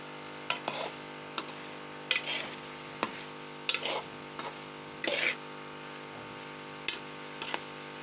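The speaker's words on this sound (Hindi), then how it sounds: "अब इसकी अच्छी तरह भुनाई करूँगी," Carrot halwa roasting in desi ghee after being frozen, a spoon scraping and stirring the pan in separate strokes roughly every second, fairly quiet and close with a faint sizzle between strokes.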